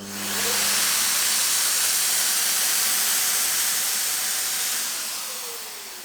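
A Wagner XVLP 5000 FinishControl paint sprayer spraying material, giving a loud, steady airy hiss that holds for several seconds and then tapers off, with a low motor hum underneath and no talking.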